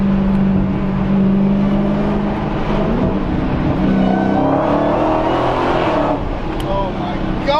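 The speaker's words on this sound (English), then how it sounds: "Distinctively, that supercharger whine is hilarious, awesome." An 840 hp Dodge Demon's supercharged V8 revs loudly and steadily, a high supercharger whine riding above the deep rumble, with a voice faintly audible underneath.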